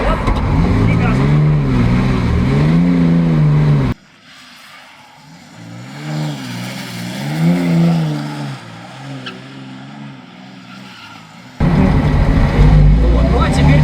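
A car engine revs up and falls back in repeated surges, loud and close, with a quieter stretch in the middle where it idles and builds again.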